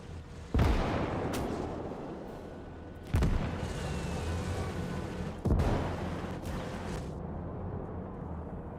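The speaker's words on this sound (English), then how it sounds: "Our allies setting up mortars." Mortar fire in the multiplayer war game Call to Arms: Gates of Hell, battles on the Eastern Front: three heavy booming blasts a few seconds apart, each with a sharp onset and a long rumbling tail over constant battlefield noise.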